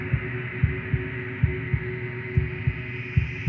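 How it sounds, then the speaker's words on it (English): The princess's heartbeat in the Slay The Princess video game, a wooden and fleshy heart, gives a steady run of low, even thumps over a constant droning hum. "the princess, a wooden and fleshy heart beating with an unbroken rhythm"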